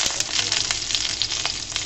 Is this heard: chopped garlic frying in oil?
yes